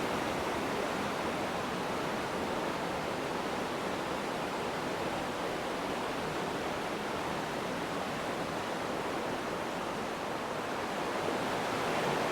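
Rough river water rushes past the Catwalk Recreation Area trail in New Mexico as a constant, loud, broadband roar, steady from start to finish with no voices.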